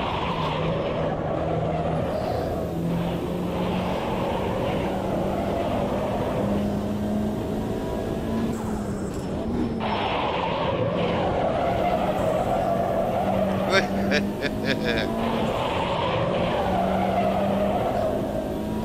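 A Mitsubishi Lancer Cup race car in Automobilista 2 slides through a corner with tires skidding steadily, a continuous loud screech layered over a droning engine note for the whole stretch, with no voices.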